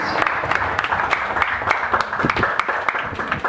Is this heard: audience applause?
yes